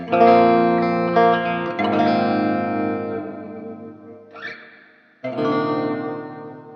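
Electric guitar chords ring out through a distorted Peavey XXL solid-state amp with a washy, spring-like reverb tail, notes sustaining and decaying between strums, no voices.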